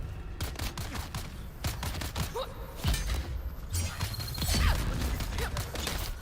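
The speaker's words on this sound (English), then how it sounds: "Oh, is that a grenade? That is a grenade." Grenade exploding during a Deep Desert battle in a video game, heard as sharp shattering blasts and thumps amid dense crackling gunfire and debris, loud and close throughout.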